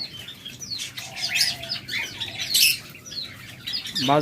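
Caged pet birds such as lovebirds, budgerigars, Java sparrows and cockatiels chirp and squawk together in a busy, overlapping chorus, close and fairly loud, with no talk.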